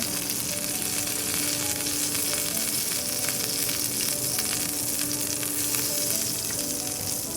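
Plantain and squash sizzle steadily in a hot pan while being stirred around, a dense continuous frying hiss with faint scraping, close and alone without any voices.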